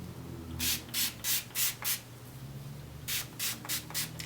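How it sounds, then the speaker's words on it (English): Short bursts from a pump spray bottle of leave-in conditioner sprayed onto hair, five quick sprays, a pause, then five more, close by and crisp. "I'm going to spray my leave-in."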